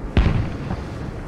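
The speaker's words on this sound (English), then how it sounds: "Big explosion." A big explosion in the Squad military shooter game, a single sharp boom with a heavy low rumble that quickly fades into a lingering low-level tail.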